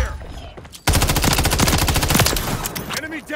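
Rapid automatic gunfire from a gun in a video game: a dense, steady stream of close, loud shots lasting about two and a half seconds, following a few softer sounds at the start.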